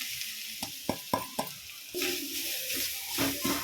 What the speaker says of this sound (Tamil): நம்ம துருவி வச்சுருக்க தேங்காய் இதில் சேர்த்துக்கலாம்